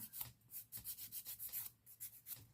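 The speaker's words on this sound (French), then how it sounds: "vous passez la lime le côté le plus fin, le plus doux sur votre ongle, à ras des cuticules" The fine, soft side of a nail file is stroked across a false nail near the cuticles, making quick, rhythmic rasping strokes that are quiet and close.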